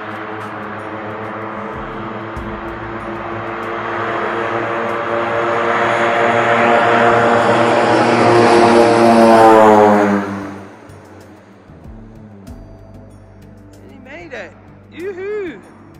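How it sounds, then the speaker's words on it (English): A propeller plane of a green-liveried mountain airline takes off from an airport near Mount Everest, its engine drone rising to a loud roar over about ten seconds, then fading abruptly as it climbs away, leaving faint background sounds. "we're going to see a takeoff"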